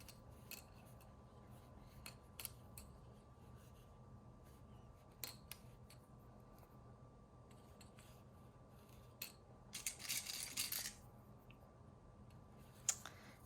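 Scissors clip along a fabric edge in a quiet room, faint scattered snips and clicks, then a brief denser burst of cutting near the end, with no talking.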